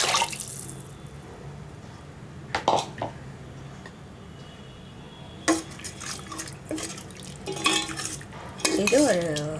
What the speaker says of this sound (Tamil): இப்போ வந்து நம்ம புளி ஊற்றிக்கலாம்.